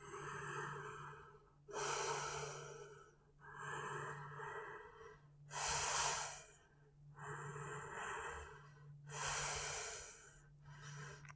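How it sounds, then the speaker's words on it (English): Deep breathing during a chest-opening pose in a traditional Hatha yoga flow: slow, close, airy inhales and exhales alternating about six times, each lasting a second or more, in an otherwise quiet room. "Helps you breathe deeply."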